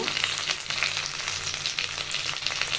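Tandoori-masala-coated fish frying in a pan over a gas stove at medium-low heat, a steady bright sizzle of hot oil that continues unbroken, close and fairly quiet with no voices.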